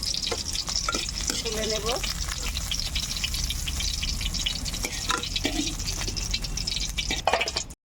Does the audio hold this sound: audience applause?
no